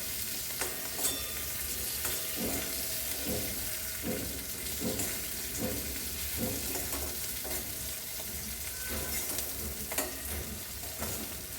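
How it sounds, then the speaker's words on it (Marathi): Stuffed green chillies frying in a pan, a continuous bright sizzle with repeated scraping stirs and spatula knocks at a fairly even rhythm, close and alone without speech. "मिरच्या थोड्या उलट्या बाजूने टाकायचे जेणेकरून सगळी करून ते छान फ्राय झाल्या पाहिजेत"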